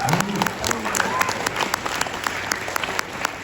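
An audience at a school memorial and library dedication claps in a steady, moderate round of applause, heard from a short distance.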